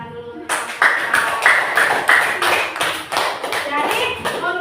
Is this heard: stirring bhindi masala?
no